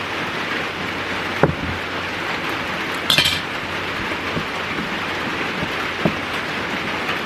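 Steady rain pouring down, a constant dense hiss with occasional clinks of dishes nearby.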